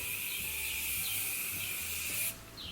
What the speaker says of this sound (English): I always like to spray my face first with the Morphe setting spray